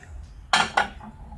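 Plain white plates and bowls clink together as they are handled, with two sharp, close ceramic knocks in quick succession over a quiet background.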